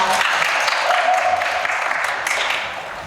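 An audience at a Hangul Day speech contest applauds a speaker, a dense, steady wash of clapping that holds for several seconds and eases slightly at the end.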